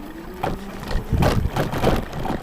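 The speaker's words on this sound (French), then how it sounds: "Les amortisseurs, on l'entend au bruit et on le voit, sont vraiment pas terribles pour ce genre de chemin." A Kaabo Mantis electric scooter rides over a rough path, and its shock absorbers give off repeated rattling thumps and knocks. The bumps come close together over a rushing wind and rolling noise, and no one speaks.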